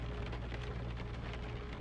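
Steady rain patters against the front window of an old dressmaker's shop, a soft, even hiss with faint droplet ticks, continuous and unbroken.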